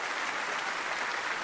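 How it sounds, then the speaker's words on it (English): Applause from a stand-up comedy crowd at the Winnipeg Comedy Festival, a dense, even roar of clapping that holds at a steady level for the whole stretch, with no talk over it. "clap it up for that"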